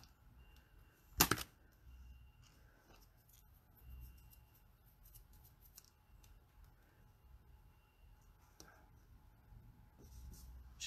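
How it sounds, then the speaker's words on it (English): A single sharp snip as scissors cut a glue strip in half, quick and close, over a near-silent room with faint handling noise afterward. "So I'm actually going to cut my glue strip in half."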